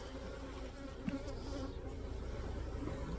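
Honey bees buzz inside an open hive as frames are lifted during a hive split, a dense steady hum filling the space close by with one brief tap partway through.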